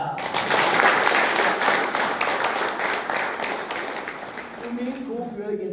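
A crowd at a Marathi Bible study gathering bursts into dense, sustained clapping that slowly tapers off, with a voice starting to speak as it fades.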